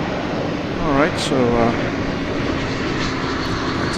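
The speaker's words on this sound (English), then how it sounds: "it's the sound of an A321 coming in from Phoenix," Airbus A321 jet arriving on approach to land at DFW Airport, a steady broadband engine roar running throughout under a person talking, with the wind audible.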